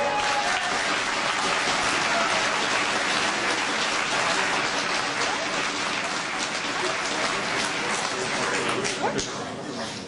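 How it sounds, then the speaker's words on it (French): A crowd at a municipal election political speech in Asnières applauds loudly and continuously, a thick roar of many hands clapping that holds steady throughout. "on l'applaudit."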